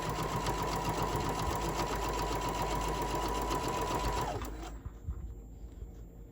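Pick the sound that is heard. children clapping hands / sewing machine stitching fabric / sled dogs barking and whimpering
sewing machine stitching fabric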